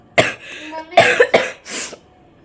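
A woman coughs several times in quick, harsh bursts, loud and close, followed by a softer breathy throat sound, alone without talk.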